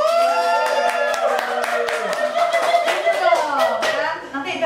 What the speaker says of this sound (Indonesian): nanti jangan lupa cepat tepuk tangan dulu pak